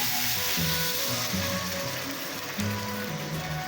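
Sugar poured into pineapple frying in a pan for shahi zarda, giving a steady close sizzle with soft scraping and clinking of utensils throughout, no voice.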